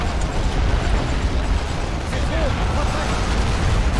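Mortar shells explode across a World War I Western Front battlefield in a video game, a dense continuous roar of blasts and rumble under someone speaking throughout.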